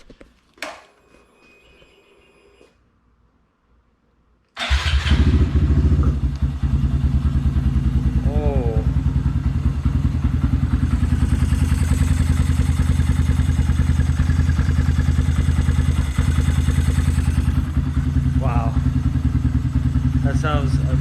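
A Honda Grom motorcycle fitted with a new Dingerbuilt intake starts after a few quiet clicks and settles into a loud, steady idle with a rapid mid-pitched putter, running close by with no talking.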